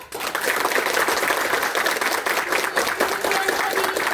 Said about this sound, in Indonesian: Enak-enak nyanyian kami, boleh tepuk tangannya dong.